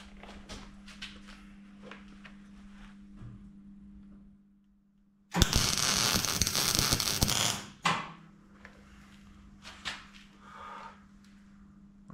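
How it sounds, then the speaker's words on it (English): Arc welding on sheet metal for a homemade loader cabin, with a loud, dense crackling burst of a few seconds standing out in the middle against a steady low hum and some clanks before and after. "let's try to do a nice weld"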